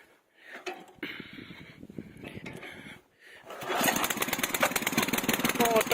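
A walk-behind tractor engine is started, with short bursts and pulls followed by the motor catching and running with a loud, rapid, rough clatter, close by.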